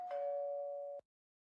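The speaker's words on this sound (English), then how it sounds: "After a few minutes, I heard the doorbell." A doorbell rings once at a house door: a single sustained electronic ding tone lasting about a second, clear and close, then cutting off into silence.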